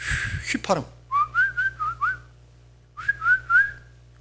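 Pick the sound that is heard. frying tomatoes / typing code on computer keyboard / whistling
whistling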